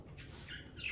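A pet bird sings indoors in short, faint chirps and squeaky warbles, brief and quiet against a soft room background.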